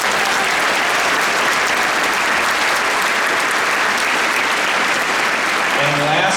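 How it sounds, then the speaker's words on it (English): Applause at a Kansas City Symphony TubaChristmas concert pours in as a loud, dense, continuous wash from a large crowd, holding steady until a voice begins speaking near the end. "Huge round of applause for Jackie."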